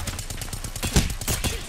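Gunfire in the Apex Legends video game, a rapid burst of close, loud shots with sharp repeated cracks across the whole moment, a heavier boom near the middle and more bursts after, with a voice faintly underneath.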